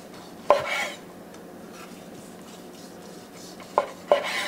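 A knife slices thin London broil-style pieces from a reverse-seared top round roast on a cutting board, a few sharp knocks and scrapes standing out over a quiet, steady kitchen background.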